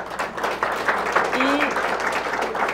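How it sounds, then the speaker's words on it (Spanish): Audience applause welcoming a speaker at a talk on addiction and mental health stigma, a continuous spread of clapping with voices talking through it. "Quiero pedirles que reciban con un caluroso aplauso a Isabel Sierra"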